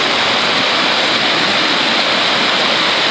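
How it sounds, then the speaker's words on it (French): Waterfall on a small stream, the Ruisseau des Champs du Poix at Coulans-sur-Lison: a loud, continuous rushing roar of falling water, close and steady, with no voices. "cascade, magnifique"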